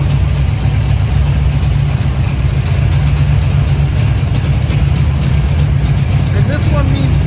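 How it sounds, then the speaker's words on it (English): A 1975 Pontiac Firebird Trans Am 455 with a cam idling close by, a deep, steady, lumpy rumble that holds constant throughout. "It's got a nice rumble."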